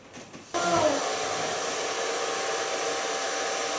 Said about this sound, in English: drying his hair with the diffuser.